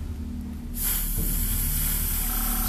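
Spray paint bursts into a steady, close hiss onto the cobblestone base of a fire elemental miniature after a quiet moment, continuing to the end.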